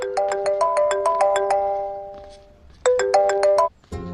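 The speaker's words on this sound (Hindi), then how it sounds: "आपको किसी का फोन आ रहा है।" A phone ringtone sounds for an incoming call, a bright repeating electronic melody of quick chiming notes that plays, pauses briefly, then starts again, clear and close with no talk over it.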